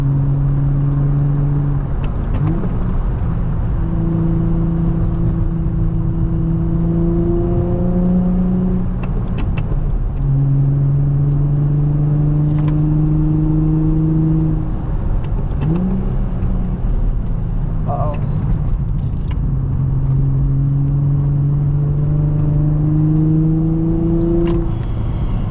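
An Infiniti G35 lowered on Raceland coilovers drives along, its engine droning loudly and rising in pitch through repeated gear pulls, with occasional brief knocks and scrapes from underneath.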